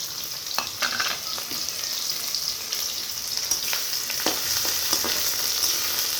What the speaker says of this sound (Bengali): তেলটা গরম হয়ে গেছে, এবার আমি কাটানো পেঁয়াজ রসুন দিয়ে দিব,